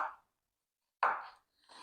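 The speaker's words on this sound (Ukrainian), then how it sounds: "Зараз ріжу дрібним кубиком цибульку." A knife chops onion into small cubes on a board, two or three short, crisp cutting bursts separated by pauses, close and fairly loud.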